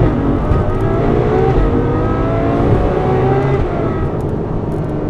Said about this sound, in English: Just listen to the response of the downshift on this thing. That's firing up 12 cylinders.